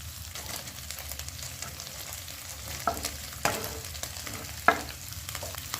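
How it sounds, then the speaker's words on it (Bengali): Chicken and chopped onion stir-fried over a high flame for chicken soup, giving a steady close sizzle with occasional sharp spatula scrapes and clinks against the pan, and no talk. "চিকেনের সঙ্গে পেঁয়াজ কুচিটা আমি গ্যাসটাকে হাই ফ্লেমে রেখে দু মিনিট নাড়াচাড়া করব"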